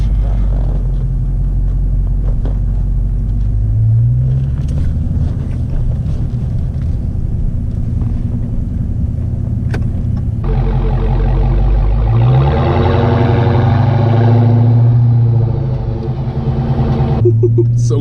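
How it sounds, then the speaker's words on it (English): Dodge Charger Hellcat V8 engine rumbling steadily from inside the car as it pulls away on the road, with a deeper surge of revs partway through under low cabin noise. "Now it's time to get it out on the road and see how well the famous Hellcat drives."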